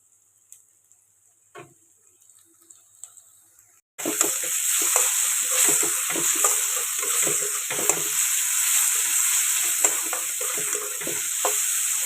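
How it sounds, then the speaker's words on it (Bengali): Boal fish cooking in a pan with onion and a kalo jeera (black cumin) tempering, quiet at first, then a loud, steady sizzle with scattered stirring clicks that runs continuously to the end. "এখানে পেঁয়াজ দিয়ে বল মাছটা রান্না করব কালো জিরা ফোড়ন দিয়ে"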